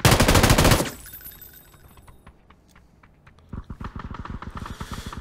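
Machine gun fire in PUBG, a loud dense burst of rapid shots up front, then a quieter gap with scattered clicks, and a second sustained rattling volley near the end.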